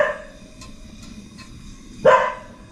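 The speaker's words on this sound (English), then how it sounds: "Henny, stop barking." A dog named Henny barks in a workshop, a few faint distant yips followed by one louder, closer bark near the end.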